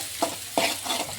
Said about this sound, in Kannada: ಈಗ ಎಣ್ಣೆ ಸ್ವಲ್ಪ ಬಿಸಿ ಆಗಿದೆ. ಈಗ ಇದಕ್ಕೆ ಈರುಳ್ಳಿನ ಹಾಕೊಳ್ತಿದ್ದೀನಿ.